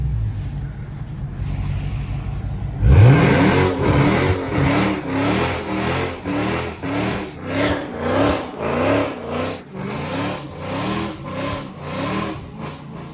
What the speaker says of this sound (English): I'm gonna do a nice little burnout when I dip